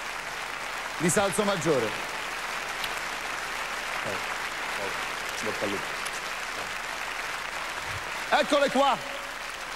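Audience applause fills the hall at the final night of the Miss Italia 2005 beauty pageant, a steady wash of clapping beneath a host's voice speaking over it, with brief musical swells near the start and end.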